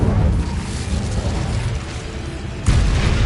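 Incendio fire spell cast in Hogwarts Legacy, a low rumbling fiery boom that rolls on steadily and then bursts out sharply again near the end.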